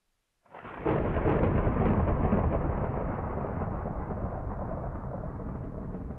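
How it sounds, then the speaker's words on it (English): Video game thunderstorm: a sudden loud thunderclap breaks in and rolls into a long, dense rumble over steady rain, slowly fading, with no voices. "Can't believe how much it rains in this game."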